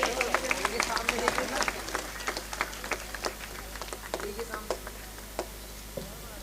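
Applause from the audience at a Hathras kavi sammelan poetry gathering, a steady wash of many hands clapping with sharper individual claps popping out, fairly distant and moderate, thinning toward the end.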